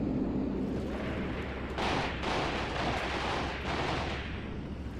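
Jet strikes hitting targets in a 1980 Battle of Khorramshahr war game, with heavy, rolling explosions and gunfire forming a loud, continuous roar that swells in a few bursts.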